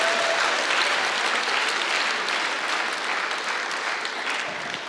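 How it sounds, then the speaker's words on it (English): Sustained applause from an audience at a state Supreme Court visit, steady dense clapping filling the room for the whole stretch without pause. "You can applaud too."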